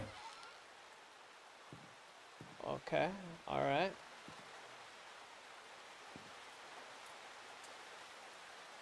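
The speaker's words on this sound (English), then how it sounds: "The rain is... too loud." Steady rain in a video game hisses softly and evenly throughout, with a person speaking briefly partway through.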